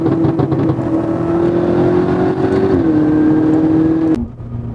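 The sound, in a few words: BMW M5 stage 2 exhaust revving at quarter throttle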